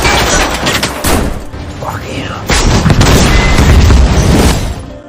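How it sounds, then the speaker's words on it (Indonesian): In a war film, two grenades go off at once during a building battle. Heavy booms and blasts come in bursts amid dense, chaotic noise, with a voice speaking over the action. "Ia sengaja mengorbankan dirinya dengan meledakkan 2 granat sekaligus."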